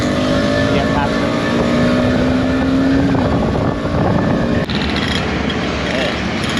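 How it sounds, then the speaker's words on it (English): Raspy two-stroke motorbike engine burning off oil on a road in Indonesia, buzzing close ahead beneath loud road and wind rumble from another moving motorbike. "It's very raspy, it's very white smoke, a lot of 2-stroke oil being burnt off."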